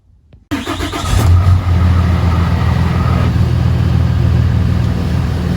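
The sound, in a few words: Ram 2500 truck engine starting up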